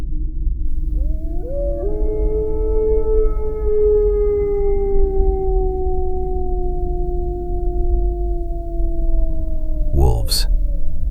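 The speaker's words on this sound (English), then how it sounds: "Wolves. Their howls echoed through the forest before gradually fading away." Wolves howl in a forest, several long, drawn-out overlapping cries rising together and holding steady over a low rumble before cutting off sharply.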